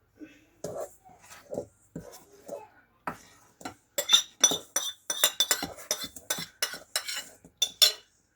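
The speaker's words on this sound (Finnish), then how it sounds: "Voit ihan silleen reippaalla kädellä sotkea." Blueberry muffin batter with plain yogurt is stirred briskly in a bowl, giving a run of quick, close scraping and clinking strokes that grows louder and steadier after some quieter movement at the start.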